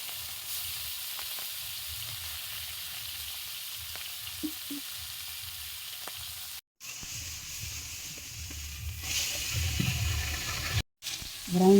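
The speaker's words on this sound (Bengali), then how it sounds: "তেল গরম হয়ে গেছে, এখন আমি মাছটা দিয়ে দেবো।" Small fish dropped into hot oil with salt and turmeric, frying with a steady, dense sizzle and crackle that runs throughout, close and fairly loud, with a couple of brief gaps.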